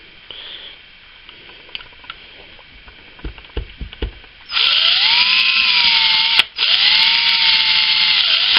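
Electric shaver blades spinning on a sharpener, starting after a few soft handling clicks and knocks with a loud steady high motor whine that falters once briefly before running on, close and alone.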